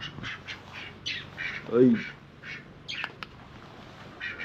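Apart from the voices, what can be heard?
ducks quacking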